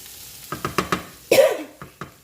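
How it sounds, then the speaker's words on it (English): Mushrooms and onions cook in melted butter in a pan, heard as a short run of close, quick scraping and stirring strokes with a brief louder burst of sizzle midway. "Let that melt around and cook within the mushrooms and onions."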